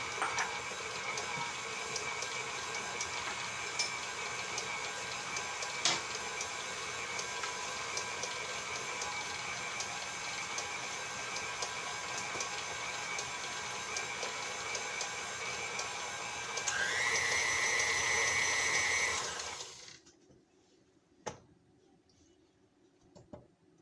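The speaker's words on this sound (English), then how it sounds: "I'm just going to mix that all up until it's combined." An electric mixer blends molasses cookie dough with a steady, close whirring drone that rises in pitch near the end and then cuts off, leaving quiet room tone.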